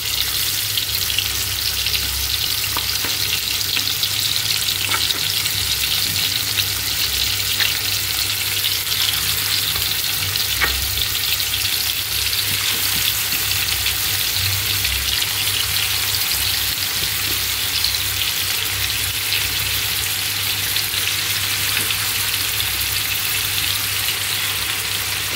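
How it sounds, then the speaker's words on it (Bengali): Beef and spleen frying in oil in a frying pan, giving a loud, continuous close-up sizzle that barely changes across the whole stretch, with faint occasional crackles and no talking. "এই যে আমি এখানে তিল্লি আর গরুর মাংস ভেজে নিব"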